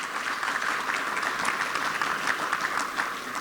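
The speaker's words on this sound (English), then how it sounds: "Everybody give Bill a round of applause" An audience at a scholarship celebration gives a round of applause, continuous dense clapping at an even level for the whole stretch, without speech.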